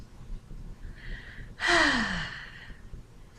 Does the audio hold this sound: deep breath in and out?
yes